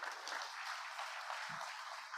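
A conference audience at an energy transition event gives faint, distant applause, a soft even wash of clapping with a couple of low thumps.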